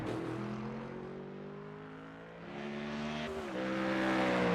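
A Ford Mustang race car on the high banks of Daytona during a GT3 sports car race: a loud, steady engine drone that rises in pitch as it accelerates, then shifts gear and climbs again, with no voices.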